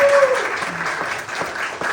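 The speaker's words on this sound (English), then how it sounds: "Give him a round of applause." An audience at a comedy show applauds, steady clapping filling the short stretch at moderate loudness with a faint tone sounding briefly over it.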